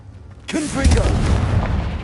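A Confringo blasting spell erupts in Hogwarts Legacy, a sudden loud burst followed by a sustained roaring, crackling blast that fills the rest of the moment, with a faint voice-like tone near the onset.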